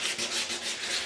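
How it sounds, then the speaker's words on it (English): Steady, soft rubbing and scraping of wet sanding on a wooden bowl, continuous with a gentle rhythmic swell, close and alone. "now I'm wet sanding the whole thing"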